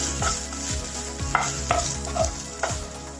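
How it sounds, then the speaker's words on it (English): Masala for Mumbai vada pav stirred in a pan, a steady low sizzle broken by a few scraping strokes of a spoon against the metal, close and alone. "Just keep stirring it till the masala is cooked properly."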